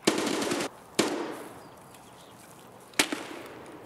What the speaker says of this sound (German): Schüsse rechts auf jeden Fall